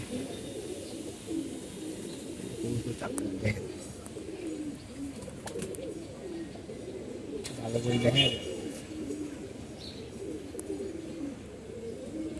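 Racing pigeons coo in a loft, their low rolling calls repeating throughout at moderate distance, while someone talks over them.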